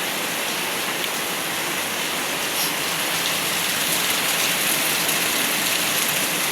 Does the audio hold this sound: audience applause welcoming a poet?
no